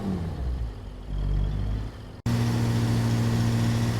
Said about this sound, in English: So this engine is much louder inside the cab